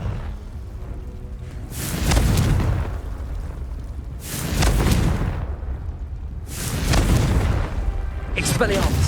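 Confringo blasting-spell explosions in the video game Hogwarts Legacy burst out three times, spaced a couple of seconds apart. Each is a loud, booming blast with a crackling tail, and a further sharp crackle follows near the end.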